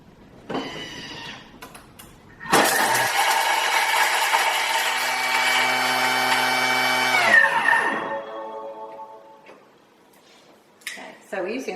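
A Thermomix TM6 food processor runs in a loud steady whir for about five seconds, then winds down, with brief clatter and voices before and after.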